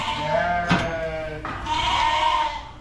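Ewes at lamb weaning bleat loudly from close by, two or three overlapping calls rising over a steady background of the flock, with no talk.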